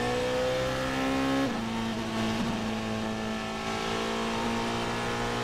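A Porsche race car on a circuit at a 12-hour endurance race at Sepang drones at high revs, its engine pitch shifting and dipping briefly as it changes gear, loud and sustained.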